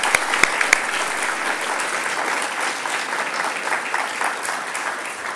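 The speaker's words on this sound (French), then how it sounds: "je peux les applaudir" A room of listeners at a Paris speech applauds two journalists present, a dense steady clapping of many hands with a few sharp near claps early on, fairly even in loudness throughout.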